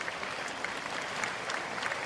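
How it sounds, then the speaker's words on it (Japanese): Around 700 students and staff at Tosu Technical High School in Saga applaud the baseball team entering a send-off rally, a steady, dense clapping that fills the hall throughout. "生徒や教職員およそ700人が拍手で迎えました"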